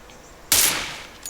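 A single sharp gunshot rings out in PUBG Mobile, a loud close crack with a trailing decay, followed by a faint second report at the very end.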